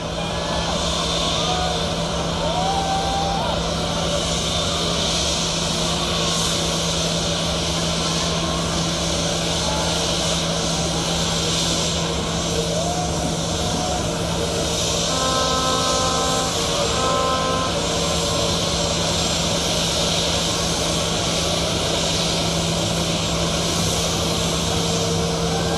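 Engines of a state reception aircraft idling at Jomo Kenyatta International Airport, a constant loud drone with a steady low hum throughout, joined briefly by faint tones.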